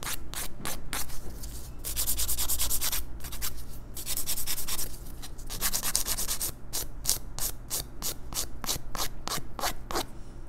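A nail file rasps back and forth across fingernails to shape them, a close, steady run of quick scratchy strokes with brief pauses between bursts.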